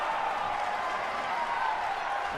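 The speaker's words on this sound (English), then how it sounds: "The crowd firmly behind Johnny Gargano." Arena crowd noise from the WWE 2K19 wrestling video game during an NXT match, a steady, distant roar of cheering and applause that is fairly loud and even throughout.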